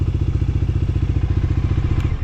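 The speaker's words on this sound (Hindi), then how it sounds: "तो अपना बाइक भी मतलब कोल्ड स्टार्ट हो चुका है।" A Bajaj Dominar 250 motorcycle idling just after a cold start on a rainy day, a close, loud engine thumping in a fast even rhythm.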